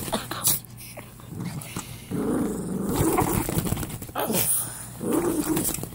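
Dog growling and whimpering close by, in rough bursts of varying loudness with brief breathy gaps and some background noise.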